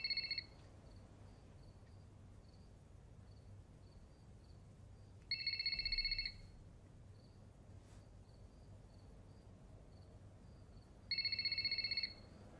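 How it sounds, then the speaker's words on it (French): A telephone rings three times, each electronic trill lasting about a second, spaced roughly five seconds apart over quiet room tone. "Ne décroche pas le téléphone."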